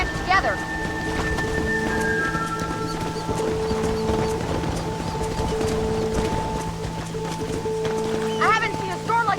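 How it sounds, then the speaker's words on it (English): Stormy weather in Red Dead Redemption: steady rain hiss with low rumbling fills the background continuously, while game music and occasional talk play over it; no sharp thunder crack stands out. "I haven't seen a storm like this for a while."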